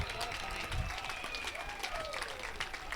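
A crowd applauds after an overhead smash wins a rally in a 2020 PPA Mesa women's pro doubles pickleball semifinal, a steady wash of clapping with a commentator talking over it.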